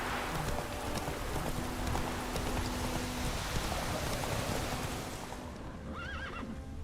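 Roach, a horse in the video game The Witcher 3, gives a clear whinny near the end, heard over a continuous wash of rain and hoof clip-clop.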